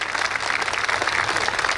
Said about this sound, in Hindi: आपकी तालियों की गड़गड़ाहट